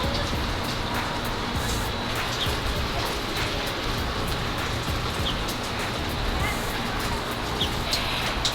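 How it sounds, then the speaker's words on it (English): Steady rain falls around a porch in Houston, a continuous even hiss of drops on surfaces with faint bird calls in the background. "It's raining on and off here in Houston."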